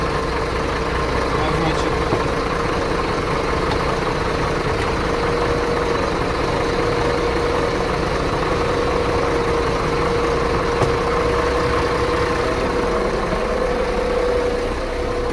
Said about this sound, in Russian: Вот так происходит запуск двигателей дизельных